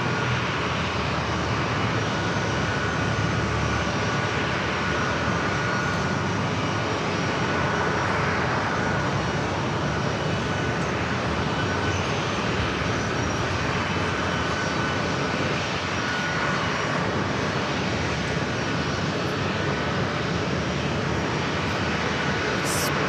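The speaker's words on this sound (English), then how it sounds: "American Airlines in the Stand Up to Cancer livery, flight 2050 coming up from Dallas, Fort Worth, Texas, to A321" An American Airlines Airbus A321 in Stand Up to Cancer livery, flight 2050 arriving at San Diego airport from Dallas Fort Worth, gives a steady, broad jet engine roar that holds evenly throughout with no talk.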